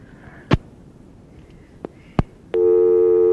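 Telephone busy signal on a phone line: a couple of sharp clicks and pops, then a loud steady electronic tone starts abruptly and holds to the end, with no talk.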